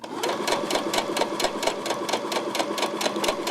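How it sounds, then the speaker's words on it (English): A sewing machine runs steadily as it stitches a seam, its needle thumping in a fast, even rhythm close by for the whole stretch with no talking. "I'm stitching about 13 millimeters, half an inch away from the seam line"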